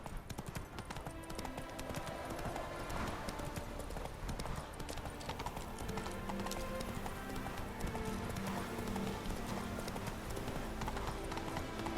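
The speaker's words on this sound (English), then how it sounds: "Whoa there, Roach" Horse hooves clip-clop steadily in The Witcher 3 video game, a continuous rhythmic trot layered over game music and ambience for the whole stretch.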